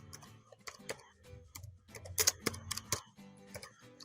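Quick clacking keystrokes on a computer keyboard, tapped in short irregular bursts with a denser flurry midway, close and fairly quiet against a silent room.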